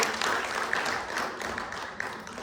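Audience at a monoacting stage festival clapping for the show's crew, a fairly faint, even patter of applause from a seated crowd.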